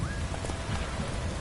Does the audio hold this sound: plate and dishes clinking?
no